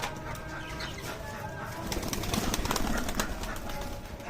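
Pigeons released from their coop in hot Karachi weather, with soft cooing and scattered wing flaps amid steady outdoor background noise, growing a little busier midway.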